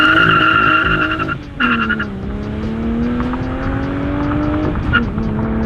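A BMW E30 M3 engine and exhaust, loud and close, with a strong harmonic drone that dips sharply near the middle, then rises steadily as the car revs up and accelerates.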